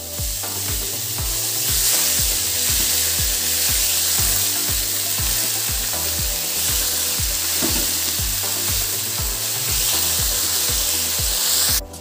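Bethua greens go into hot oil with spluttering tempering, a loud continuous sizzle and crackle close by, with a steady rhythmic scraping of the stirring spoon throughout.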